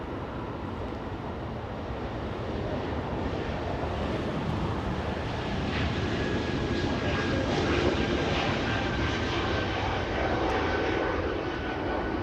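A Delta airliner departing Los Angeles International Airport for San Francisco roars steadily with broadband jet noise and wind buffeting the microphone, building slightly as it passes.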